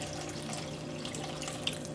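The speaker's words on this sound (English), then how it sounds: "add some water" Water runs steadily from a tap into a cooking pot for thick lentil soup, a continuous close splashing hiss with a faint hum underneath and no talking.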